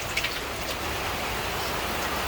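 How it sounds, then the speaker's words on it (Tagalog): Heavy rain pours steadily onto a rooftop, a dense continuous patter of drops with a few brief louder splashes, no voices present. "lumakas na naman ang ulan"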